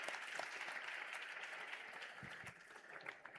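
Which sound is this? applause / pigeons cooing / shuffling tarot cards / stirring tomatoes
applause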